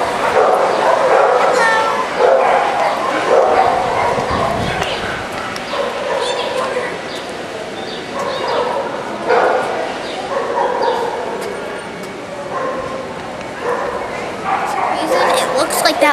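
Dogs at a dog show bark, yip and whimper in repeated bursts across a noisy indoor crowd, with people talking throughout.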